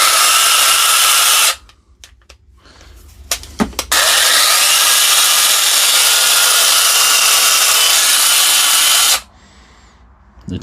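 A Parkside cordless chainsaw on a 4 amp battery runs loud and close with a steady high whine, cutting out briefly with a few clicks and short bursts before revving again, then stopping.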